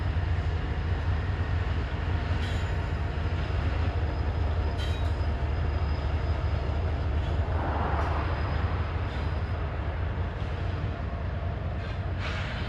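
A detoured Norfolk Southern freight train rumbles past steadily with heavy low-end roar and rhythmic wheel clatter, fairly distant, no voices.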